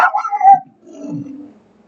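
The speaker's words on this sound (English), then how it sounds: "Shut up, dogs." Dogs bark and howl briefly at close range: a quick burst of yelps followed by a lower drawn-out howl.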